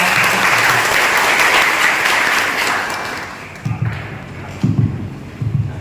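A crowd at a Thai police community-network gathering gives a guest a loud, full round of applause that holds for about three seconds, then drops away, leaving a few scattered low thuds and knocks.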